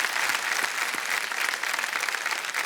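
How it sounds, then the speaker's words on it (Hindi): A studio audience on the TV quiz show KBC claps loudly in a dense, continuous wave of applause that holds its level throughout, with no voices on top. "एक बार अपने ही लिए ताली बजा दीजिए जोर से।"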